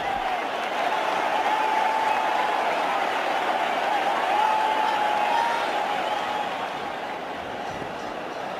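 A cricket crowd roars on its feet after Adam Gilchrist falls first ball in an India versus Australia Test, a broad, sustained wash of cheering and applause that swells and then eases slightly.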